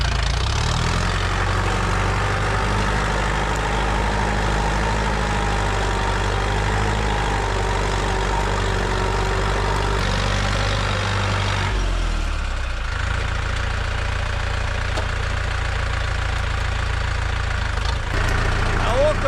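Tractor engine running steadily in first gear with no front-wheel drive while ploughing heavy, sticky soil, a loud continuous low rumble with a brief dip near the middle, heard close up under a man's speech.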